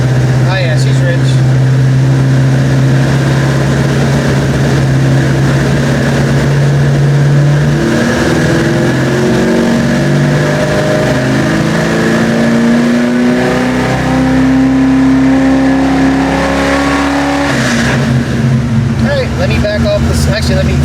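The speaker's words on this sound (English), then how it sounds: "Do a slow rev and see what happens." 1989 Ford Mustang engine with a Brawler carburetor, running rich and slowly revved up then back down, a loud close drone rising steadily in pitch before dropping to idle, with people talking over it.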